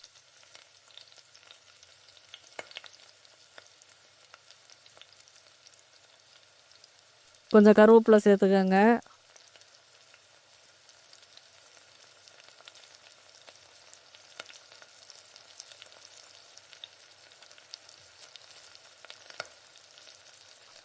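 Mustard seeds and urad dal sizzling and crackling in hot oil in a kadai, a faint steady frying hiss with small pops, briefly covered by someone speaking.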